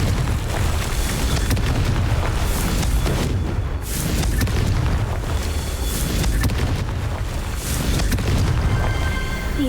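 A fiery Confringo spell blast in Hogwarts Legacy, heard as dense, rumbling booms and bursts that swell and fade repeatedly across about ten seconds, loud and close with no talk.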